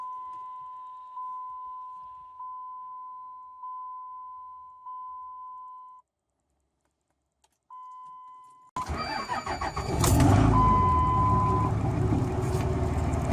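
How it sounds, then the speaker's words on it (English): A steady electronic beep repeats in short pulses for several seconds as a power inverter shuts off on low power, goes silent, beeps briefly again, then loud engine noise and clatter take over from an early third-generation Cummins diesel cold start. "that beeping was my inverter turning off from low power"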